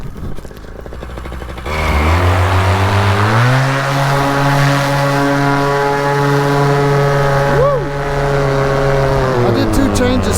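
A paramotor engine spins up its propeller for launch, rising quickly into a loud, steady droning roar with strong harmonic whine that holds constant, close by, with brief voices in the background.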